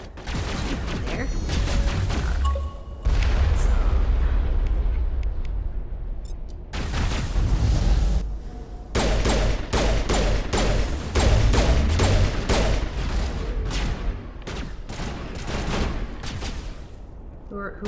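Heavy gunfire in Mass Effect Legendary Edition on the planet Therum: long bursts and rapid volleys of shots with booming impacts, loud and close, running almost without a break, with a few short pauses between bursts.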